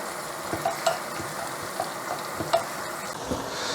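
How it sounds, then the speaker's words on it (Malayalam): Garlic and ginger fry in a pan with a steady, moderate sizzle, while a utensil stirring them scrapes and taps in a loose rhythm up close. "ഇത് വെളുത്തുള്ളിയും ഇഞ്ചിയും ചെറുതായിട്ടൊന്ന് മൂത്ത് വരുന്നവരെ ഇളക്കി കൊടുക്കുക"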